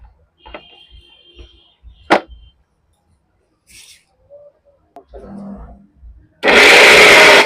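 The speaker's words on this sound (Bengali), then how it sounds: "টুকরো করা আমগুলোকে এবার আমি মিক্সিতে ব্লেন্ড করে নেব।" A mixer grinder blends chopped mango pieces for a mango cake, roaring in loud and close for about a second at the very end, after quieter clinks and kitchen handling.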